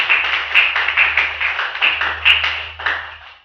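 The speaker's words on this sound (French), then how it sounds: "Les acclamations pour Jésus" A church congregation claps for Jesus in a loud, rhythmic run of strong claps, roughly two per second, over a low steady hum.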